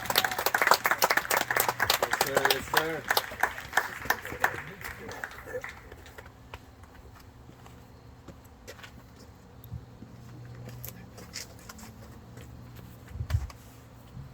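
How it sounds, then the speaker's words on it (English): Applause at a delegate campaign kick-off rally as a candidate is called up, loud dense clapping and cheers for several seconds that fade out, leaving quiet room noise, with a voice speaking briefly. "Give him a round of applause"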